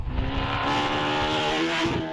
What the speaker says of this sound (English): Tom Price then in the Caterham 740cc machine, pushing his way up the hill.